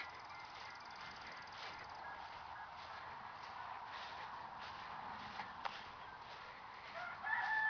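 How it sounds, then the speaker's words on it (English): Roosters crow faintly in the distance across an open farm, the calls blending into a steady outdoor hiss with a few soft nearby knocks. "Now you can hear roosters crowing."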